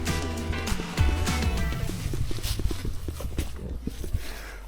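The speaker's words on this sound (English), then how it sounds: "Let's stop and see how the horses are doing." Horses shuffle and clop on hard ground nearby, producing a run of irregular hoof knocks, while a low vehicle hum and a voice fade in the background.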